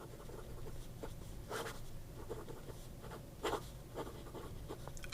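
A Cypress medium-nib pen scratches across paper in quiet, close strokes, with soft rhythmic scritches and a few brief louder flicks over a faint background hiss.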